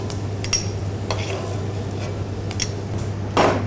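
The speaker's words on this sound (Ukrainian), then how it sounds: "Розігріваємо сковорідку і наливаємо олію. Обсмажуємо чесник на олії" Garlic frying in oil in a heated pan, a low steady hum with soft stirring scrapes and light clinks, and a brief louder sizzle burst near the end.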